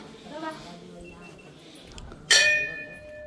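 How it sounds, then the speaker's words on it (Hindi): A temple bell at Kasar Devi temple in Uttarakhand is struck once, a bright metallic clang that rings on and decays, following a voice. "बाकी ये लाइन से देखिए घंटी बंधी हुई है।"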